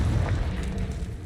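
A Confringo explosion spell goes off in a Harry Potter video game as a short, loud, rumbling boom with a brief crackling burst.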